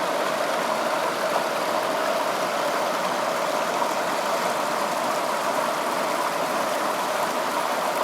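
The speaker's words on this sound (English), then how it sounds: "show you this area where the whitewater is" Whitewater rapids on the Farmington River at Satan's Kingdom churn in a steady, full rush of water, close and unchanging, with no voices.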